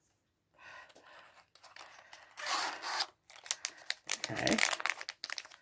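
Disposable vape packaging is ripped open close up with crinkling and tearing in several bursts, one person speaking briefly.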